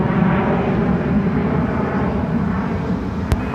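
An Alaska Airlines jet takes off from runway 34 right at Seattle-Tacoma, a steady broad engine roar held at even loudness from start to end, with a brief sharp tick near the close.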